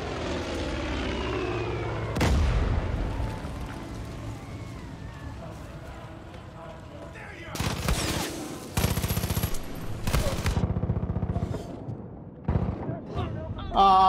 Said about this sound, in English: I don't know where I'm getting shot from.